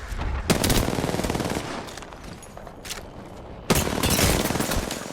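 Automatic weapon fire in a video game shooter rattles in long, loud bursts, with two sharp onsets and a steadier stretch of shots between them, up close and with no talking.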